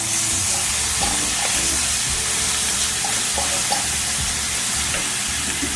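Garlic, ginger, scotch bonnet pepper and thyme sizzle in a pot on low heat, a steady close hiss of frying with occasional small pops and stirring clicks, no talking.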